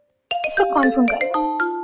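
A phone ringing indoors with a short bright chiming ringtone melody that starts abruptly after a brief silence, loud and close, running about a second and a half.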